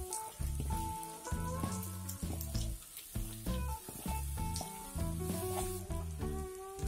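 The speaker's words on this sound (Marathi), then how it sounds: "मसाला तळलेला आहे, मुरमुरे टाकूया।" Puffed rice is stirred into fried masala in a pan for kurmure upma, a steady sizzle and crackle with soft rhythmic scraping strokes, close and moderately quiet.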